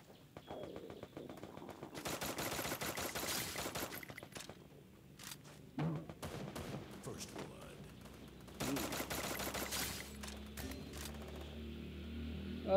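Gunfire in a video game squad ranked match: bursts of rapid automatic fire come in clusters with pauses between, with players talking over the shooting.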